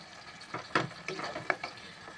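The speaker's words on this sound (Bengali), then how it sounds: "কিন্তু দেওয়ার পরেই আমি ফ্লেমটা বাড়িয়ে দিলাম, একটু কষাবো হাই ফ্লেমে" Mutton pieces sear in a pan with onions on high flame while a spatula scrapes and stirs, soft frying under a few sharp clinks and scrapes, close but fairly quiet.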